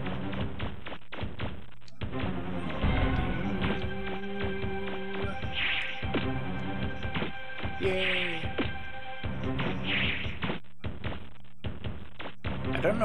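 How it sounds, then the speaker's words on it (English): Footsteps on steps in Mega Man Legends, a steady run of hollow clip-clop thuds at an even pace, with game music tones and chimes alongside and a voice talking at times. "I just find that sound of the steps very satisfying for some reason"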